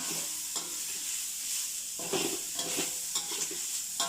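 Pork stir-fries in a pan with a soft, fairly faint background sizzle, and a few scraping stirs come through toward the end. No talk is heard.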